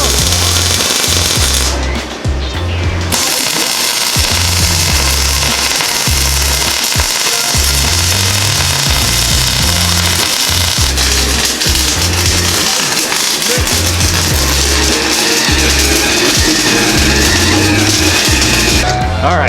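Flux-core welding with stainless steel wire on a table while building a rear differential mount assembly for an EK Civic, giving a loud, continuous crackling buzz with heavy low rumble and brief breaks.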